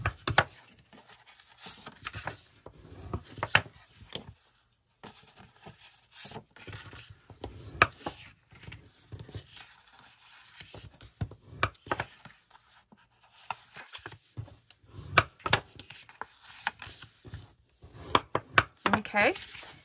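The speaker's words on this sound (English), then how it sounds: "Fold and burnish." Paper is folded and burnished by hand for a vintage berry-themed craft album, making repeated dry rubbing and scraping strokes with sharp taps in an irregular rhythm, close and fairly quiet.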